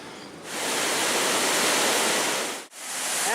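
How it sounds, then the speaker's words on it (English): Waterfall on the Cross River in the small town of Schroeder, a steady, loud broadband roar of falling water heard up close, continuous apart from one brief dip near the end. "we have one more awesome waterfall here to check out. And this is on the Cross River."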